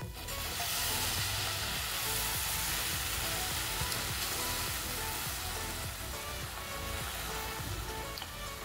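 Grated carrots for gajar halwa fry in a pan, a dense, steady sizzling hiss with soft crackles running throughout and no talk.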